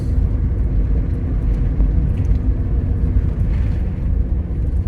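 A cheap Nissan Skyline with worn tie rod ends and ball joints drives along, its engine and road noise forming a steady, loud low rumble that carries through the whole stretch without a break.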